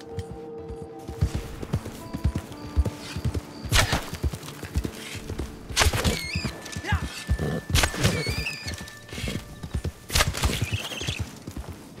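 A horse's hooves clip-clop steadily in Red Dead Online while the horse acts uncooperative. The hoofbeats are close and rhythmic, with a few neigh-like whinnies and scattered thuds mixed in.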